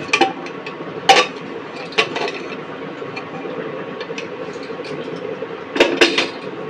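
The lid of a pressure cooker, used for a spinach, lentil and potato curry, comes off with several sharp metallic clanks and clicks over a quiet kitchen background hum.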